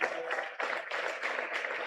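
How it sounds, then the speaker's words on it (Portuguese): A church congregation applauds during a worship service, a steady wash of clapping with brief dips in intensity over its short span. "Vamos aplaudir a Jesus."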